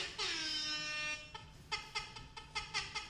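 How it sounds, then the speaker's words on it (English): A sustained tonal honk like an air horn sound effect during a CSR2 racing game stream, followed by a series of short rhythmic squeaky blasts, loud and close. "I'm gonna find a new air horn for Ronald."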